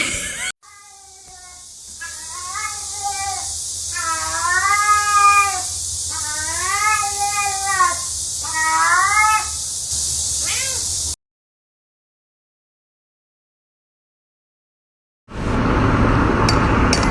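A cat meows repeatedly in long, wavering, drawn-out yowls that rise into caterwauling, loud and close for about ten seconds, then silence, then a burst of other noise at the end.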